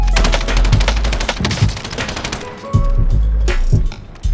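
Light machine gun in Warzone firing in long, loud sustained bursts with rapid repeated shots, a short break near the middle, then more bursts.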